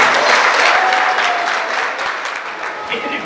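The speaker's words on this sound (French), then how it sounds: "On peut les applaudir." Crowd applause at a family event honoring sponsors, a steady wash of many hands clapping close and loud, tapering slightly toward the end.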